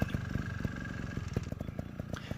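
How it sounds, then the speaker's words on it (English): A motorcycle engine is revved gently while the rider slips the clutch during a slow-speed control drill. It gives a low, steady idle rumble with light rhythmic pulses, fairly close and unaccompanied by speech. "Now we're going to try and rev the engine just barely."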